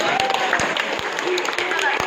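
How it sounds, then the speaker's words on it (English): A zoo show crowd gives a round of applause for a keeper: a close, continuous wash of clapping with a few sharper claps, under someone talking over it. "big round of applause for Ryan"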